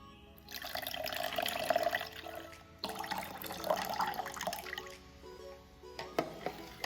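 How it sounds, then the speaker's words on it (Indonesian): Boiled water pours steadily into instant coconut milk, a continuous near splashing stream with brief pauses and a few drips toward the end, no voices. "Kemudian tambahkan air matang hingga mencapai 400 ml."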